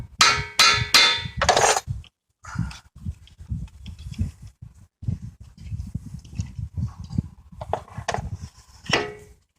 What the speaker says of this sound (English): I use this mechanical punch tool where when you depress on it, the bit turns counterclockwise.